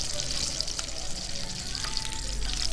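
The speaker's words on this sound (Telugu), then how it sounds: "క్యాషూ నట్స్ వేసుకొని బాగా కలుపుతూ అవి గోల్డెన్ బ్రౌన్ కలర్ వచ్చేదాకా వేయించుకోవాలి." Cashew nuts sizzle in a pan as they fry toward golden brown for rava kesari, a steady hissing crackle with faint scraping from stirring, close by and continuous.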